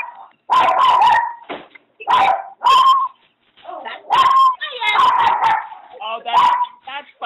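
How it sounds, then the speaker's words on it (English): A small dog barks and yips in repeated sharp bursts, loud and close to a home microphone during an online webinar, with people talking in between. "That's not my dog. I don't have a little dog."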